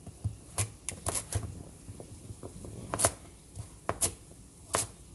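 A pumpkin for shrimp soup is cut up with a knife, heard as scattered sharp chopping clicks against a board, close and irregular, with a faint voice in the background.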